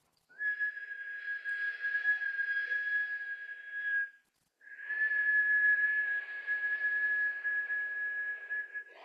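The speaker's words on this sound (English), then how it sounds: "We're going to be inhaling and exhaling through this whistle-shaped mouth." Two long, steady whistled tones made by breathing through pursed lips, split by a brief pause; each held evenly at a single pitch, close and clear.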